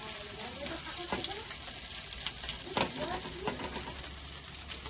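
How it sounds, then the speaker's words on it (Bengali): Something frying in oil in a pan over low heat, a soft steady sizzle with occasional stirring clinks and scrapes at close range. "আস্তে আস্তে আঁচটা দিয়ে এটাকে ভাজতে হবে"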